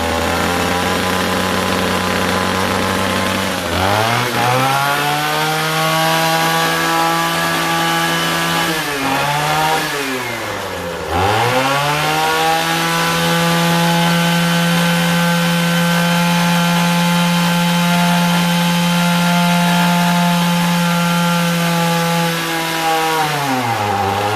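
Two loud two-stroke engines running on a 1000:1 fuel-oil mix rev up sharply, dip twice, then hold a steady, high, buzzing whine at full throttle before dropping off.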